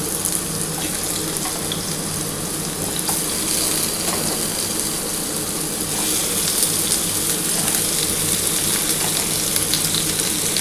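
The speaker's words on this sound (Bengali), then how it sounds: "আমি আলু আর কুমড়োটা ভেজে নিচ্ছি" Potato and pumpkin pieces fry in a pan, giving a steady, close, watery hiss of sizzling oil that runs evenly with no talk.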